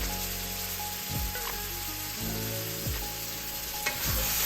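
Fresh jackfruit taco filling sizzles steadily in a hot pan while a utensil stirs it, with a few soft scraping thumps over a continuous close frying hiss.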